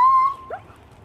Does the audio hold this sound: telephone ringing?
no